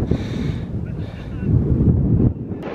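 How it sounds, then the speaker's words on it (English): Wind gusting across an exposed mountain pass in thick fog, a loud steady rumble buffeting the microphone for a few seconds with brief swells and one sudden drop near the end. "You can tell which way the wind blows, predominantly from that direction."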